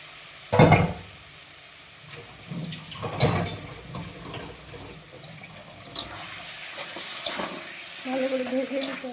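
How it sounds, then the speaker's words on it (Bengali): Chicken pieces frying in butter and oil in a pan, sizzling and hissing while they are stirred and scraped, with clattering utensil strikes and some brief voices in the background. "এটা ভালো করে এবার ভেজে নিতে হবে"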